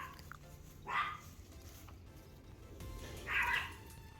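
A dog gives two short barks a couple of seconds apart, moderately distant, over a low background rumble.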